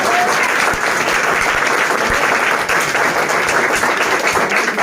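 A crowd at a physics coaching institute event gives a physics teacher loud, sustained applause, with steady clapping for about five seconds.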